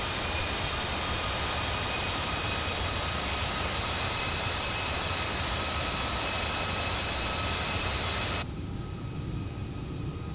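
Airbus A320neo jet engines roar steadily during takeoff climb in Microsoft Flight Simulator, a dense continuous drone with faint tonal whine, constant and loud throughout, no talking.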